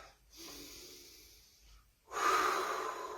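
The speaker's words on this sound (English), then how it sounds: "taking a couple of deep breaths" Two deep breaths during a morning mobility exercise session, a long soft inhale followed by a louder, forceful exhale, close and clear with no talking.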